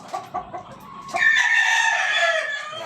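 A Lemon-breed gamefowl rooster gives a few short clucks, then a loud, close, sustained crow that fills the rest of the moment.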